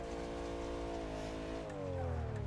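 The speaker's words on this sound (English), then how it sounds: "I can hear his car, it's so loud." A drift car's engine from a driving simulator such as BeamNG or Assetto Corsa roars steadily at high revs, loud and sustained, its pitch shifting partway through.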